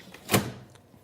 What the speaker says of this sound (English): Yeah, close it up, shut the door, do your job.